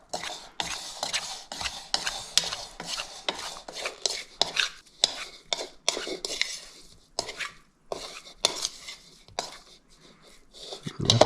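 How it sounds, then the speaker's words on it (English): Seasoned steak pieces mixed together in a bowl, a run of wet, squelching stirring strokes with utensil clicks against the bowl, close and rhythmic in bursts with pauses. "Then I'm just gonna mix everything together."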